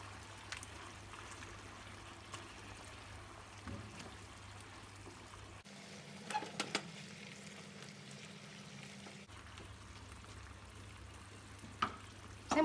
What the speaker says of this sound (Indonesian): Lalu diaduk.